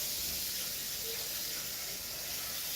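Tap water runs steadily into a pot for soaking, a constant hissing splash, close and fairly quiet with no talking.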